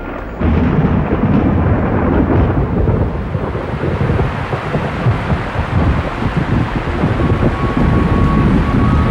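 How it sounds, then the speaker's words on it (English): Thunder rolls as a rainstorm gathers over the Holy Land desert, a loud, continuous low rumble with steady rain and wind noise filling the whole stretch, no voices. "When the rain clouds gather and the thunder rolls"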